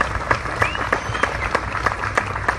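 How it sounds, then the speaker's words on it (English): An outdoor community crowd at a Wichita police BBQ with Black Lives Matter claps for itself, a loose, fairly close patter of hands with a few sharper individual claps standing out. "so you definitely give a hand clap for yourself"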